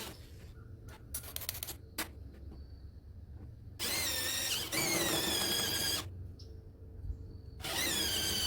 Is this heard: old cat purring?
no